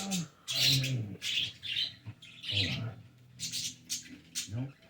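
Several pet birds kept at home chirp and tweet in quick, close bursts of bright calls and squawks, with short pauses between them and no talking.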